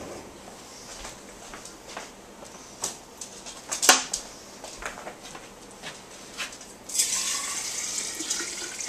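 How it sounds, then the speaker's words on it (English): Tap water runs into a large glass sprouting jar holding radish seeds, first as light splashes and clinks, then as a louder steady pour near the end, close by with no talking. "So I'm going to fill this up with water."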